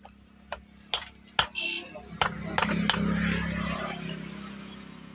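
Hammer blows on a chisel cutting a bicycle chain on an upturned cycle: several sharp metallic clinks at uneven intervals, close and loud, followed by a lingering ringing hum.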